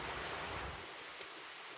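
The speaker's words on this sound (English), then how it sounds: "so I thought I would capture this beautiful rain" Steady rain falls on a back porch on a cold, breezy day in West Virginia, a dense continuous hiss with no voices, the low rumble fading partway through.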